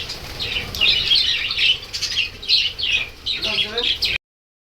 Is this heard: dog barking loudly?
no